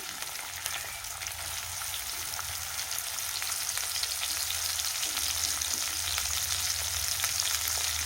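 Cumin seeds and green chilies sizzling in hot oil, a constant close crackling fry that holds steady and grows slightly louder throughout, with no voices.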